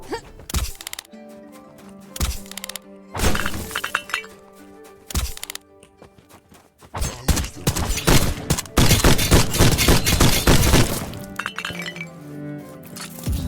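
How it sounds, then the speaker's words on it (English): Gunfire and impacts from the video game Black Skylands, with sharp bursts, glassy clinks and breaking debris scattered across a busy stretch, growing into a dense loud barrage near the end. "Really have to stop taking shotgun shells to the face"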